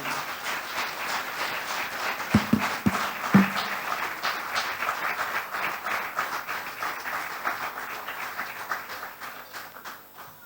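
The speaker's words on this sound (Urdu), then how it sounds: "استقبال کیجئے زوردار تالیوں میں ڈاکٹر سعید عالم" An audience gives a loud round of applause welcoming a guest onto stage, dense steady clapping with a few sharp, close claps standing out early on before it slowly thins.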